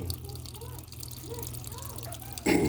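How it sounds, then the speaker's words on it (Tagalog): Water filling a washing machine, a steady running and trickling flow that continues throughout and swells louder near the end. "Yan o, pumapasok yung tubig"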